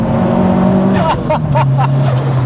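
Ford Escort Mk6 with a swapped 360 bhp Focus RS engine pulls hard, its engine drone stepping up through a few quick rev surges and shifts, loud and close, with voices talking over it.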